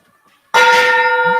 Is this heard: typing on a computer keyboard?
no